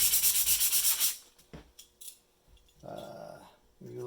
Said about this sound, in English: sandpaper if you have it